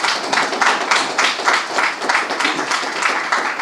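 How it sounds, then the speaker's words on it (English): A crowd applauds steadily, many hands clapping at a brisk even pace, fairly close and loud for several seconds. "give her a big round of applause"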